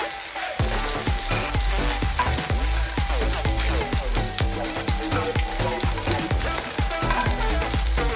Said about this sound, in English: so that I could fry up the onion and garlic in that.